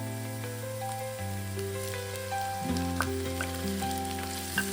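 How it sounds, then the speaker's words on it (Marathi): Onion and tomato fry in a pan for an Agri-style oyster sukka, a steady sizzle with occasional spatters, partly overlaid by sustained tonal background music; no one speaks. "कांदा लाल होईपर्यंत हे परतवून घ्या तर कांदा इथे चांगला लाल झालेला आहे आता मी यात टाकणार आहे टोमॅटो"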